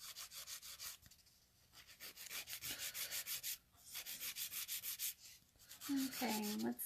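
Fingernails are filed with a 240 grit file in quick, close rubbing strokes with a steady rhythm. The strokes come in bursts with short pauses, and a brief tonal sound appears near the end.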